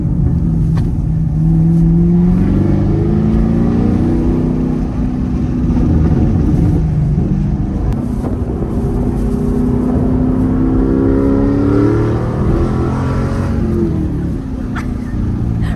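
A Chevrolet Camaro SS 1LE engine drones and revs steadily on a track, its pitch rising and falling in smooth sweeps as the car accelerates and eases off, loud and close throughout with no talking.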